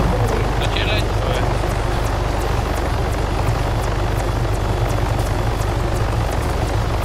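Helicopter in the video game ARMA III, its steady rotor thump and engine drone filling the scene at constant volume, with players talking over it and faint rhythmic blade ticks high above.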